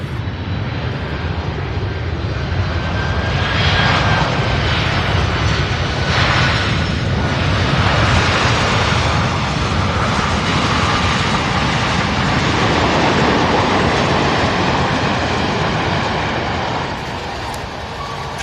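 Airplane engines roar continuously at SDF airport as planes land on runway 35 right, a loud, broad, sustained rumble with rising and falling whine from nearby aircraft.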